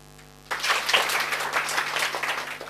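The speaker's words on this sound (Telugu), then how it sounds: "ఇక్కడికి వచ్చినప్పుడు మాత్రమే చప్పట్లు కొట్టాలి." A gathered audience bursts into clapping as part of a group game, the applause starting abruptly after a brief quiet moment and continuing steadily to the end.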